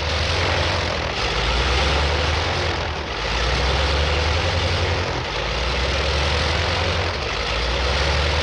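A carrier-based military propeller plane with folding wings, probably of the early 1950s, runs its engine before takeoff in a loud, steady, close droning roar with slight periodic swells in volume.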